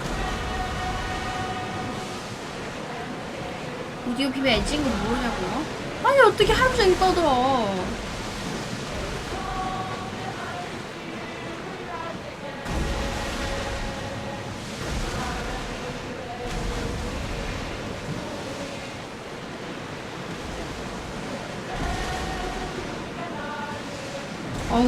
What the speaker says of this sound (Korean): 어우, 파도